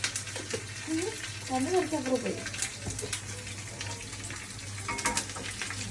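Steady hiss of mustard seeds frying in oil with faint crackles, a constant low hum underneath and a voice speaking briefly in the background.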